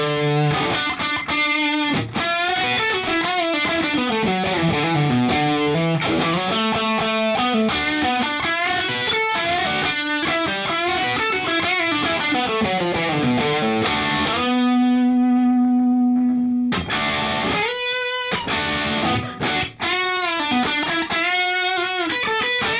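An electric guitar plays part B of a solo, with distorted, effects-laden tone. Continuous bent and sustained lead notes run with a brief held note near the end, loud and alone with no talk.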